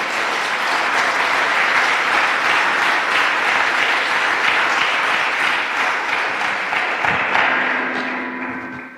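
A church congregation claps for God after the sermon. The applause is a long, loud, dense wash of many hands that holds steady and then fades away near the end.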